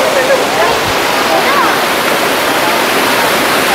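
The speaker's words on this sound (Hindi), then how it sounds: "हम इस वाटरफॉल के बेस पर पहुंच गए हैं।" Water pours steadily at the base of the Bamani or Turga waterfall at Ayodhya Pahar in Purulia, a loud, close, unbroken roar that fills the whole clip.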